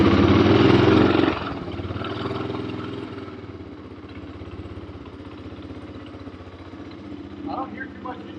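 A 1985 Honda ATC250ES three-wheeler engine runs after a non-kickstart start, revving hard at first and then settling into a steady, throbbing idle that stays up close throughout.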